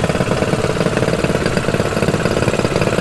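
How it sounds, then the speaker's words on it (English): The Norwich Special cyclekart, a small Breeder Nash-based car with a Ford engine, runs at the Brooklands Double 12 meet with a loud, close, steady throbbing engine note and no talk. "Norwich Special, which is a Breeder Nash-based car with a Ford engine that Julius Grimway used to race"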